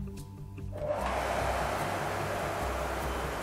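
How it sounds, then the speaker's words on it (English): A Nilfisk White Line 321 cleanroom vacuum switches on about a second in, rising from quiet into a steady, even whirring hum that stays alone and unchanging through the end. "Now we're going to power up the vacuums to show you the low noise level and the suction power."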